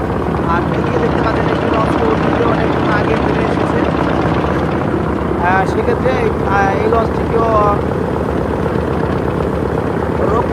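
A passenger river launch under way on a river, its engine a loud, constant low drone with rushing wind and water, while someone talks over it throughout.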